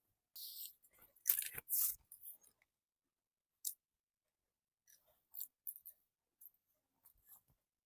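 Scissors snip through a woolen suit fabric piece while a kurti is cut out, with a quick burst of close, crisp cuts early on, then scattered softer snips after a pause.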